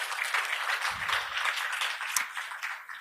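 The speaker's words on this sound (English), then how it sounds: "Brilliant. I'm going to clap." Clapping from an audience at a sustainability tourism conference session, a moderate spread of many hands applauding steadily with a few brief low thumps, no talking.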